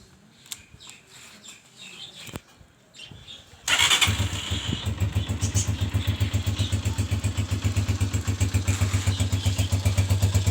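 A 2020 Honda CG125 Special Edition motorcycle sits quiet with a few faint clicks, then its single-cylinder engine starts abruptly and settles straight into a loud, steady, rapid idle thump that fills the rest of the stretch.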